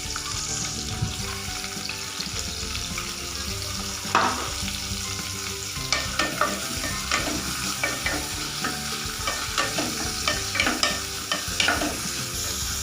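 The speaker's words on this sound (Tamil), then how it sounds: "ஆனியன் நல்லா கோல்டன் ப்ரௌன் ஃப்ரை ஆகணும்." Onions fry in hot oil with star anise, cloves, cinnamon and cardamom, giving a constant sizzle broken by repeated spoon stirs and scrapes, loud and close with no talking.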